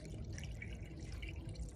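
Water pours steadily into a car radiator during a coolant change, a continuous close liquid rush and trickle lasting the whole short moment with no voices.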